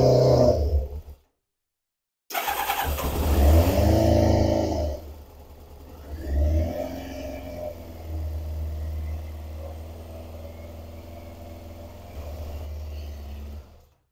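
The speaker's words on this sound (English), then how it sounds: "Start the bike." A Kawasaki ZZR 600 motorcycle engine starts after a brief silence and settles into a steady low idle, loud at first and then rumbling on evenly nearby during an oil change.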